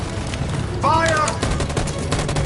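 Gunfire in the Detroit: Become Human video game, a dense burst of overlapping shots rattling through the whole moment, with shouted voices mixed into the noisy battle din.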